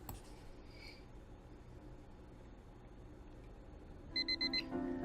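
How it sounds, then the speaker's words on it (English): An alarm clock in a video game goes off after quiet ambience, a rapid series of four electronic beeps followed by a longer tone near the end. "I woke up to my alarm beeping"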